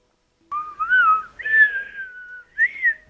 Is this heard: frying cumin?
no